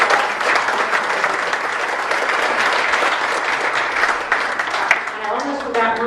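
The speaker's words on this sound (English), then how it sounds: "You get your own round of applause, Monty." An audience at a Delaware state senate district debate applauds, dense sustained clapping from a crowd at fairly loud level, with a voice speaking over it near the end.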